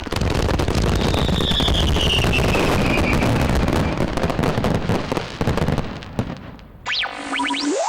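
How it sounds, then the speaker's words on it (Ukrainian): Fireworks bursting in a dense, continuous barrage of loud crackles and bangs, thinning out near the end, where a few rising whistles of rockets sound clearly. "феєрверки це ідеальне поєднання хімії, світла та звуку"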